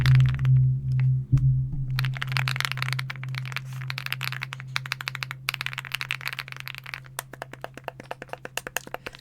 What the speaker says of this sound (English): But obviously the best part of this keyboard is the switches.